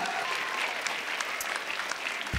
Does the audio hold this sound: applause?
yes